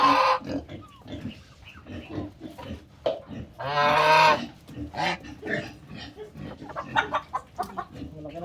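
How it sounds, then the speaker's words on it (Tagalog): Pigs kept on a Filipino farm alongside chickens, grunting and squealing up close, with a loud squeal burst in the middle, clucking poultry and some voices around them. "Tsaka mayroon tayong mga alaga ditong baboy."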